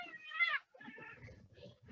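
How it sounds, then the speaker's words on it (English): A cat meows from a television: one clear, moderately faint meow, followed by softer murmuring sounds. "for some reason, there's a cat on TV"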